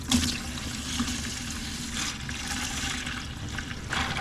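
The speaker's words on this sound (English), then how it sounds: "Boy, a lot of water, guys." Water drains from the engine oil pan of an Allis-Chalmers Model D grader, pouring and splashing steadily into a container, a continuous close trickling with occasional louder gushes.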